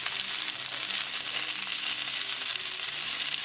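Breaded chicken thighs frying in a pan over a medium gas flame, a dense, steady, hissing sizzle that stays even and close throughout with no talk over it.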